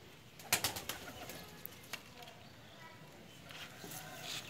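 Golden Pakistani pigeons, including a breeder hen, give a burst of wing flaps followed by a few soft, faint flutters and a low coo against a quiet background.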